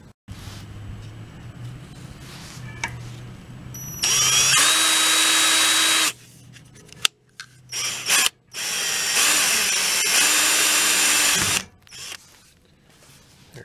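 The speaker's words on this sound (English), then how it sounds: "I forgot I was gonna drill eighth inch hole for a weep hole." A drill bores an eighth-inch weep hole in a generator exhaust, sounding as two loud, steady whining runs of about two seconds each, near and close, separated by clicks and handling noises, with no talking.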